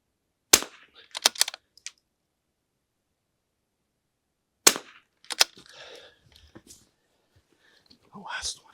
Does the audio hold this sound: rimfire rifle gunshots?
yes